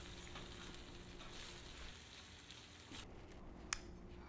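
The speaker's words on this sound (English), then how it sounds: "into the saute pan it goes" Diced vegetables sizzle steadily in a saute pan, a soft, even frying hiss close by with a brief sharp click near the end.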